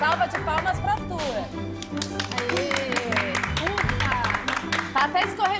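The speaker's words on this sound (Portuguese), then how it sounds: "Uma salva de palmas pra Arthur." Applause and cheering for a young contestant on a junior baking competition show, with steady clapping running under excited voices and shouts throughout.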